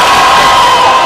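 Crowd at a rally cheering and shouting, a dense, loud and steady wash of voices with scattered claps mixed in, continuing without a break.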